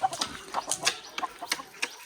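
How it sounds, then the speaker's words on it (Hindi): Chickens in a mountain village cluck in quick, irregular bursts, close and fairly soft, with no talking over them. "यहाँ मुर्गियाँ बतखें भी आपको नजर आएंगी"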